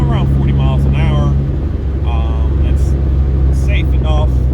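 A car engine drones steadily at around 40 miles an hour on a trackcross course, running Federal 595RS-PRO tires, a continuous low roar with a voice talking over it.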